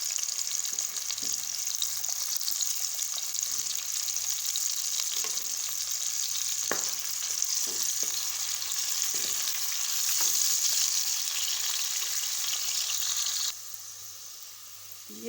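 Chopped onions sizzling and frying in hot ghee in a home kitchen pan, a steady bright crackle throughout with occasional stirring scrapes and pops, no voice.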